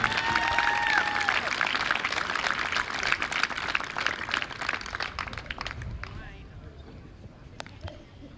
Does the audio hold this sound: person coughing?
no